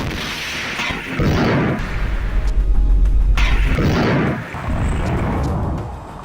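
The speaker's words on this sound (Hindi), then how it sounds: "शायद आईडीएफ का टैंक भी एक गोला दागता है, लेकिन उसके साथ ही अल कुद्स का लड़ाका उसके ऊपर रॉकेट दाग देता है" Tank cannon fire and rocket strikes during urban fighting in Khan Yunis, Gaza: heavy booming blasts with deep low rumble, two main loud bursts separated by a brief lull, each trailing off into crackling debris noise.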